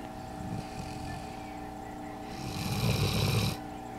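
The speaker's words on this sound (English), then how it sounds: "our dog does snore, doesn't he?" A pet dog named Copper snores close by with slow, rumbling breaths, including one louder, raspy snore toward the end, against a steady background hum.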